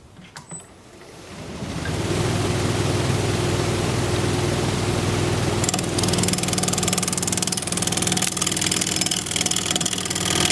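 A wood lathe spins at 1200 RPM while turning a live-edge rectangular bowl, its steady motor hum and whirring drone rising over the first two seconds and then holding loud and constant.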